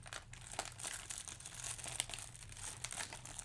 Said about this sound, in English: how many plastic bags does one need?